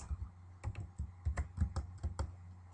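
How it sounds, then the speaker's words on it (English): A computer keyboard is typed on in an irregular run of close, crisp keystrokes with short pauses between bursts, heard alone. "And we're going to start typing, Dear Mr. Wilcox."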